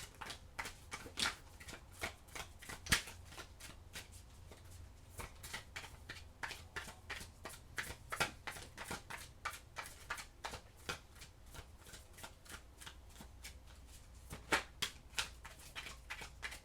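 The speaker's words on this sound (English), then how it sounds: "let me get your last tarot cards here" Tarot cards being shuffled by hand, producing a long run of quick riffling and snapping bursts in an irregular rhythm, close and clear against a quiet background with no talking.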